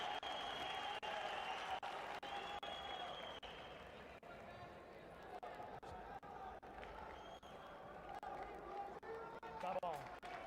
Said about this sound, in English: You can see there the crowd respond to back by